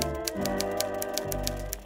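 A typewriter clatters quickly in a steady run of sharp key strikes over a sustained musical background, close and fairly loud, with no speech.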